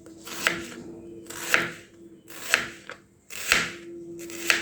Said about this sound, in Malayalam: അനിയൻ, സവാള ഇതുപോലെ കട്ട് ചെയ്ത് വെക്കണം